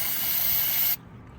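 Cleaner sprayed onto a motorcycle brake caliper from an R6: a single loud, close hissing burst lasting just under a second, then cutting off abruptly to quiet.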